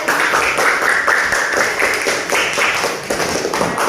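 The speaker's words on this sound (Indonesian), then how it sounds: "Tepuk tangan untuk Mbak Anilia." A classroom of schoolchildren applauding together, a steady dense patter of many hands clapping at once, close and fairly loud, with no talking over it.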